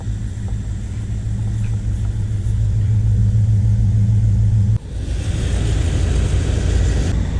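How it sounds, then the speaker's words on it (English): An old RV engine, parked for two years, runs at a steady idle with a deep, loud low rumble, then the tone shifts abruptly midway into a rougher, broader engine roar. "Engine purrs like a kitten."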